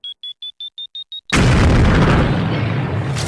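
Bombardier beetle defensive detonation as a dramatized effect: seven quick, evenly spaced high beeps, then a sudden loud explosive blast that rumbles and hisses as it slowly fades.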